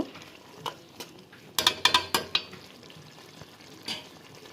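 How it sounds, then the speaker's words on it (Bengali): Whole bay leaf, cloves, peppercorns, cardamom and cinnamon frying in oil with a soft sizzle, broken midway by a quick burst of sharp scraping and clinking strokes from a spoon against the pan. "তেজপাতা লবঙ্গ গোলমরিচ এলাচ দারুচিনি এগুলো দিয়ে দিছি আমি ওগুলো একটু ভালো করে কষিয়ে নেব"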